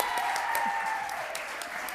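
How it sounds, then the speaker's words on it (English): An audience claps steadily at a school district governing board meeting just after a unanimous vote, a dense, even patter of many hands holding fairly loud throughout, with faint voices murmuring underneath. "Now you may applaud even louder."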